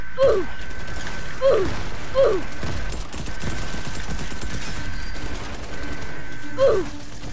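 Gunfire in the video game Fortnite cracks out as a handful of separate shots spaced irregularly, each with a sharp descending ring, over a steady mechanical background hum.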